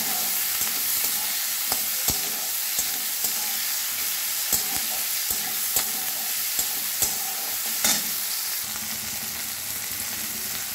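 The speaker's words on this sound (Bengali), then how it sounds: "একটু ভেজে নেব, লাল লাল করে ভেজে নেব।" Tomatoes and dried chillies frying in a pan: a steady loud sizzle with occasional clicks and scrapes from stirring, close by and with no voices.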